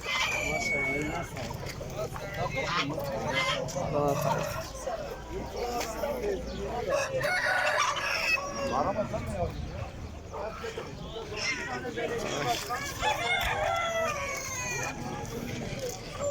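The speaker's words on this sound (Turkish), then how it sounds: "Horozlar. Dövüş tavukları arkadaşlar." Fighting roosters crowing amid a busy outdoor animal market in Adana, Turkey, with people talking throughout and crowing rising over the chatter now and then.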